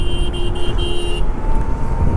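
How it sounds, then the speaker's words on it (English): A car horn honks in a few short, loud toots on a road, close by over steady engine and traffic noise while riding a scooter-type bike. "Okay, someone is honking."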